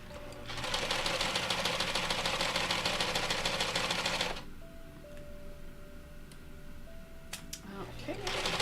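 Home sewing machine stitching fabric at a steady, loud buzzing run for about four seconds, then stopping, with a softer mechanical hum and small clicks after; a voice is faintly present.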